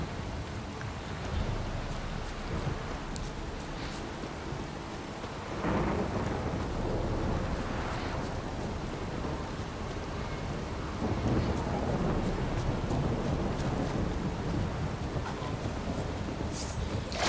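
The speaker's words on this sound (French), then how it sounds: "Ah, c'est pas mal l'effet de l'orage quand même." A thunderstorm in the video game The Witcher 3 Wild Hunt, with steady heavy rain and rolling rumbles of thunder that swell in waves throughout, loud and continuous.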